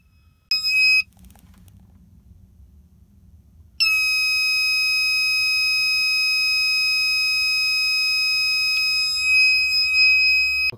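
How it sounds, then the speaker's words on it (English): An RV inverter's low-voltage alarm, triggered while a toaster draws about 70 amps from the battery, gives a short beep and then a loud, steady high-pitched electronic tone that sounds continuously over a low hum. "The alarm's going off."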